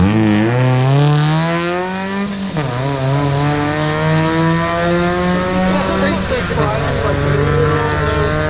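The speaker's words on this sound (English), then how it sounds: "this guy's got nitrous. You hear the nitrous in there?" Ford Fiesta race car running nitrous at a street racing event, its engine wailing loud and close with rising and falling revs, a sharp drop and climb twice, and people talking beneath it.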